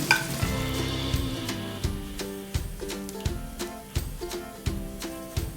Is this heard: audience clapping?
no